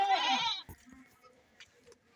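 On a farm with about thirty goats, a loud, close goat bleat fills the first half-second, followed by faint shuffling and scattered small noises.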